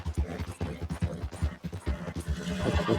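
A horse in Red Dead Redemption 2 moves with steady, rhythmic hoofbeats and snorting, close and fairly loud, with a whinny-like tone mixed in and a rising rush of noise toward the end.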